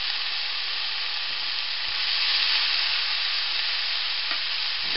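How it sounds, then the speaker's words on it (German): Beans frying in a pan with bacon, a steady, loud, hissing sizzle that holds evenly throughout with no talking. "ich habe die Bohnen jetzt ein bisschen mit angebraten"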